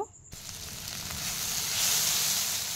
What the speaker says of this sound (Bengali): এবার হলুদ গুঁড়োটা দিয়ে নেড়ে চেড়ে একটু ভাজা ভাজা করে নেব।